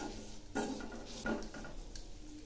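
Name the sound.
semolina being lightly fried and stirred in a pot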